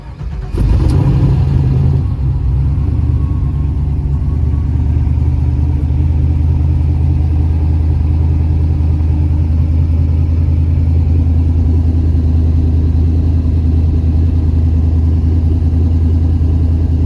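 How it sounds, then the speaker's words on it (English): A car engine cold-starts early in the morning on a street, catching with a sharp burst, then settling into a steady, loud low rumbling idle that continues unchanged. "A little early morning startup, so I can move it on that side for the street cleaner."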